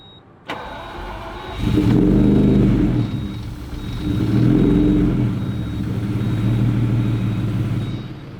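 A Lamborghini Diablo barn find cranks and fires with a sharp start, then its engine roars through two loud revs and settles into a strong, steady high idle close by.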